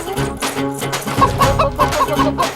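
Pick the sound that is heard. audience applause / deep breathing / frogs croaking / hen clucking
hen clucking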